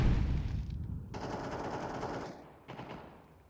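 Galil rifle gunfire in a Counter-Strike match on Nuke, with rapid automatic bursts that cut off briefly partway through and then resume, loud and close, layered over game ambience with no speech.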